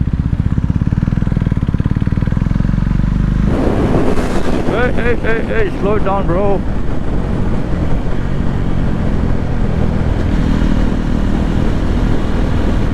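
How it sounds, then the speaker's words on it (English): A KTM Duke 390 with a Termignoni exhaust, its high-compression single giving a deep bassy thump, roars with wind buffeting the microphone on an Indian road. A rider briefly speaks midway as the engine note rises and falls. "KTM's use high compression engines which give you that bassy thump."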